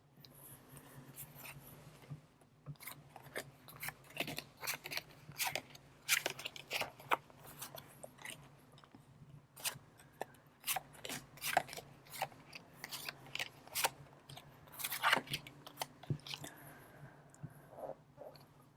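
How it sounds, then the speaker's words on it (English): Tarot cards are slid out from the bottom of a deck, making close, soft scraping and snapping card sounds in irregular bursts, with short pauses between them and no talking. "let's pull out the cards from the bottom of the deck."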